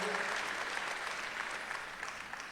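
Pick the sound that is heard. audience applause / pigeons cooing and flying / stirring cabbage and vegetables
audience applause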